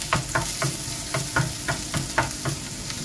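Garlic sizzling and frying in a pan as part of cooking corned beef, with a steady sizzle broken by a regular rhythm of stirring scrapes, close and fairly quiet, no voices.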